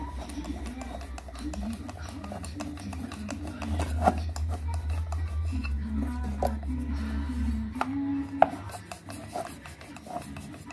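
Soft scraping and cutting of rolled karanji dough on a board, faint repeated rasps under a low steady hum and background noise, with a few sharper taps.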